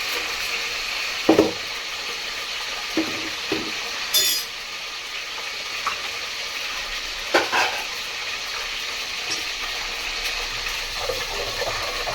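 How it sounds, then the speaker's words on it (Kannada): Mutton keema frying with fresh mint gives a steady, low pan hiss across the whole stretch, with an occasional sharp clink or scrape of a utensil against the pan. No one speaks. "ಸ್ವಲ್ಪ ಸ್ವಲ್ಪ ಪುದೀನ ಹಾಕದ ಚೆನ್ನಾಗಿ ಫ್ರೈ ಆಗ್ತಾನೆ ಇರಲಿ"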